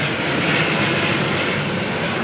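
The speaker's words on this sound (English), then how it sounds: "Military plane overhead," A military plane flies straight overhead above a house, its engine a loud, continuous, broadband roar that holds steady and close throughout, with no voices.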